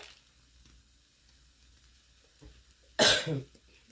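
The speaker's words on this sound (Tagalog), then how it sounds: "Pasensya na po kayo guys dahil inuubo-ubo ako." A single sharp cough breaks out near the end during home cooking of a crab omelette, loud against an otherwise quiet kitchen with only faint background noise before it.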